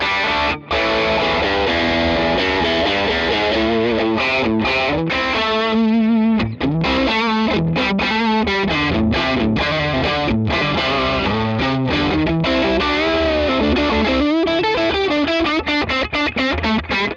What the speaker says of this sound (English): The first way is going to be a Les Paul into the Rat, into a Vox, which is on the edge of breakup.